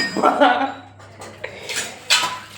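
Black peppercorns are pounded for tea, giving a few loud, close metallic knocks and clinks with short pauses between them.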